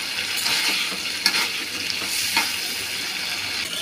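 Potatoes fry with a ground paste of cinnamon, cardamom and black pepper for a chickpea bhuna, crackling in a steady close sizzle while a spoon stirs and scrapes the pan, with a couple of sharper knocks.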